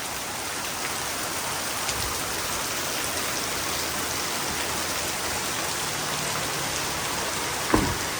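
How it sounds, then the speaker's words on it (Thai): Steady, dense rainfall pattering on surfaces, continuous and fairly close, with a brief louder knock near the end. "ฝนก็ตกดี"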